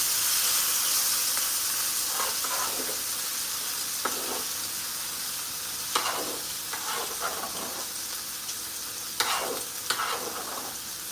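Food sizzles and fries steadily in a hot pan, a constant loud hiss with occasional sharper pops and crackles; no one speaks.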